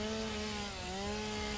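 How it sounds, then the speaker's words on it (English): A chainsaw in the video game Satisfactory cuts through vegetation with a steady, droning engine whine that shifts slightly in pitch. It runs continuously and close, with no talk. "I do love the chainsaw. It is so good for just getting rid of this."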